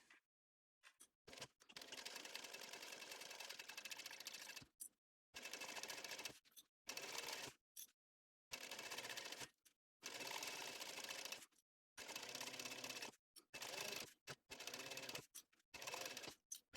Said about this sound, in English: now I'm going to baste this side, and I'm going to baste it with my zipper up